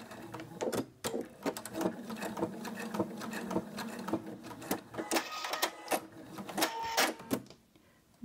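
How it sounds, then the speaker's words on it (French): A sewing machine stitches a few forward and then reverse stitches, a close rapid mechanical patter of needle strokes with short pauses and changes in pace. "je fais quelques points avant et puis quelques points arrière"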